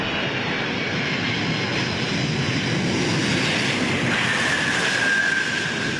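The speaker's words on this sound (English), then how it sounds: "giant of the sky descends on Perth's International Airport. 6 engines and wings spanning more than 88 metres" A six-engine Antonov cargo plane landing at Perth International Airport, its wingspan over 88 metres; a loud, steady engine roar fills the whole stretch without break, with a rising whine near the end and no talk.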